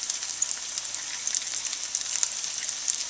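Potato croquettes frying in a pan over medium-high heat give a steady, close, bright sizzle with small crackling pops throughout, no voices over it.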